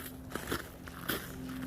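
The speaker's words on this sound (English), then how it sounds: "It's just a different walk when there's snow on the ground." Footsteps crunching on snow while hiking uphill, three or four crisp, close crunches at an uneven walking pace over a quiet background.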